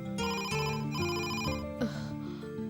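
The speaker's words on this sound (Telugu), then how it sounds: "ఈ ఫోన్ కాల్స్ ఏమిటి?" A phone rings with a repeating electronic melody, its notes stepping up and down in a steady pattern, clear and fairly close.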